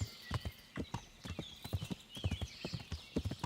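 A horse in Kingdom Come: Deliverance walks with close, distinct hoof clops in a loose rhythm, while a soft neigh drifts faintly over the steps.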